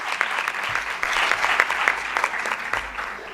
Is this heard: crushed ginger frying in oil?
no